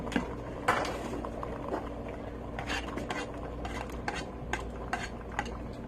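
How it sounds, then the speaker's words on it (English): A spoon stirring a pot of Jamaican seafood stew peas with added vegetables, producing repeated close scraping and clinking against the pot over a steady low background hum, with no voices. "Yeah, I'm giving it a stir."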